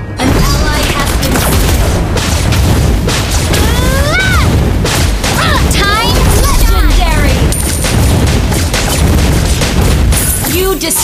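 A turret is destroyed in the Mobile Legends video game, heard as loud, dense booms and crashing blasts layered with chirping effects and game voice lines throughout.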